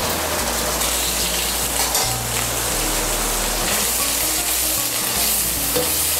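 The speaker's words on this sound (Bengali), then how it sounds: "আমি এর মধ্যে দিয়ে দিচ্ছি 1 বড় চামচ আদা বাটা।" Ginger paste sizzles steadily in hot oil in a pan while being stirred, a dense continuous frying hiss with soft scraping under it and no talking.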